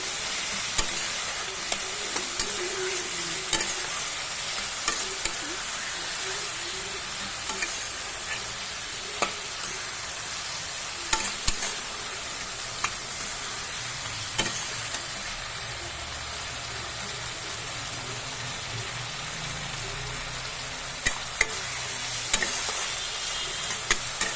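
Masala mushrooms frying in a pan with onion while being stirred, making a continuous close sizzle broken by occasional sharp spatula taps and scrapes, fairly quiet and without speech.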